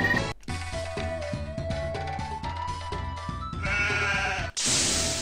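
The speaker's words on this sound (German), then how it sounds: "Ein Schaf." Sheep bleats in the video game Doom & Destiny, heard over a steady game music backdrop, with brief bleating calls breaking through before a short sharp effect near the end.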